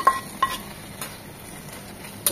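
Lightly fried cauliflower and flat beans are stirred into spice paste in a pan, giving a few sharp utensil clinks against the metal over a faint sizzle, with no talking.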